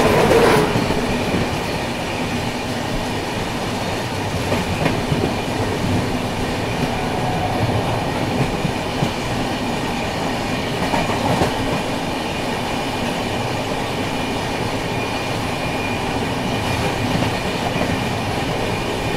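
Konark Express, train number 11019, rolls in with a steady rumble of wheels and carriages, a faint clickety-clack and occasional squeal, continuous and fairly close, with no talk.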